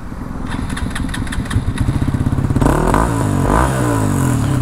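A Hero XPulse motorcycle with a dB killer fitted in its exhaust idles with a steady, close thumping pulse, then revs up sharply into a louder, rising engine roar, with no talking.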